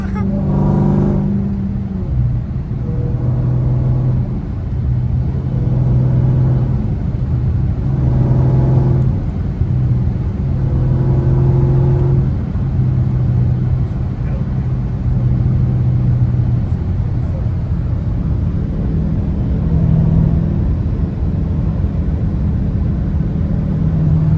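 A Dodge Hellcat engine roars hard under acceleration in sixth gear with the wheels spinning, a loud sustained rumble with rising and falling tonal drone throughout; a voice can be heard faintly over it.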